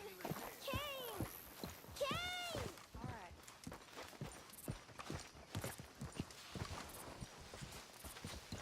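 Horse hooves clip-clopping in the Red Dead Redemption 2 video game, a steady walking rhythm of hoof strikes with a couple of whinny-like calls early on, while voices talk over it.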